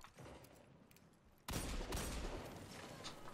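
Video-game gunfire: near silence breaks about halfway into a sudden loud, sustained burst of rapid shots that keeps roaring to the end, with no talking.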